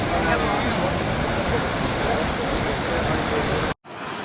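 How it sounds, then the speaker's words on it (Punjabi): Steady, loud rush of a Punjab canal flowing high after heavy rain, filling the whole clip, a broad continuous roar that cuts off abruptly near the end. "ਪੰਜਾਬ ਦਾ ਨਹਿਰਾ ਚੱਲਦਾ"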